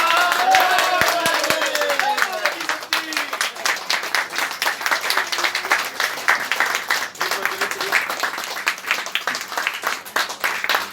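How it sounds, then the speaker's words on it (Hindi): A crowd applauding at an outdoor event, sustained clapping that runs steadily throughout, with a voice talking at the start and chatter underneath. "तालियां हो जाए भाई, तालियां हो जाए।"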